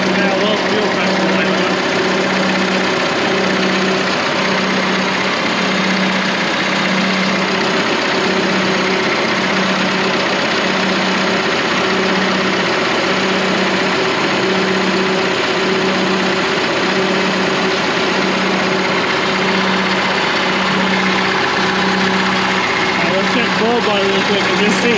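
A Deutz power unit engine runs steadily at idle, a loud, even mechanical chugging with a regular knocking pulse that continues without a break throughout, with no voices over it.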